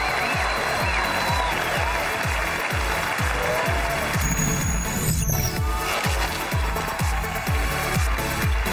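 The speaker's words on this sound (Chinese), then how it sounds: "那接下来就让我们掌声有请" A studio audience welcomes a famous xiangsheng performer onto the stage of a talk show with sustained applause and a steady rhythmic clapping pattern throughout, some squeaks and noise over it.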